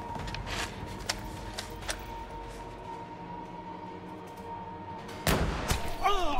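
Gunshots in The Quarry horror video game sound as a few muffled thuds over a steady low game rumble, followed by a louder burst near the end as a voice chimes in.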